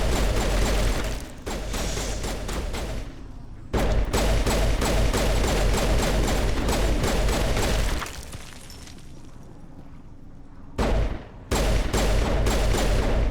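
Sustained rapid automatic gunfire in the video game Mass Effect Legendary Edition comes in long dense bursts separated by short pauses, loud and close, with mechanical clatter and no talking.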